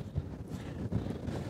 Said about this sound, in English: it's still windy at a bend site